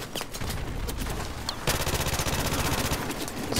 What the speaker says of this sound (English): let's see how the P90 shoots